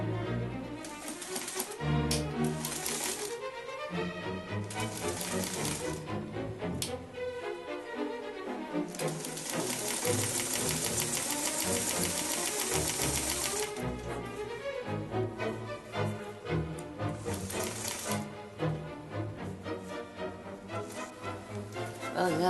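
Sewing machine hemming small fabric pieces for a handmade aviator hat, rapid mechanical stitching in bursts with brief pauses between runs, close and fairly quiet.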